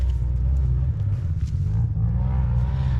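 A race dirt bike lapping a GNCC-style off-road track, its engine giving a steady, loud low rumble that holds throughout without pause, fairly close by.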